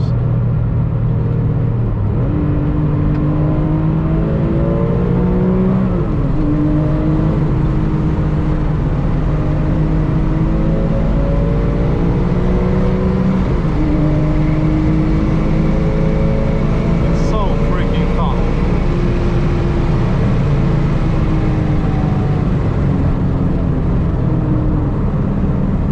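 A Porsche 996 GT3 Clubsport drives a familiar road, its engine loud and close as it revs up through repeated rising pulls with gear-change dips between them. A voice speaks briefly partway through.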